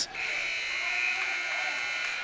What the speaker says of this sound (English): that will run out the clock as you hear the buzzer sound here, ending the second period